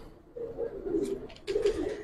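Giribaz pigeons in a loft give low throaty coos in two bursts close to the listener, with faint background noise between.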